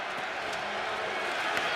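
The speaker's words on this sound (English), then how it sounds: "Crowd getting into it on 3rd and 5 for Arlington." Football stadium crowd at an Arlington XFL game on third down, a steady broad roar of cheering that holds and swells slightly, with no clear speech over it.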